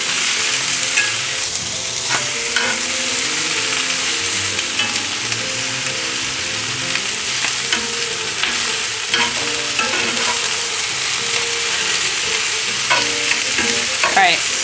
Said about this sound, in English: We just want to sweat and colour the veg and meat before we go on to the next step.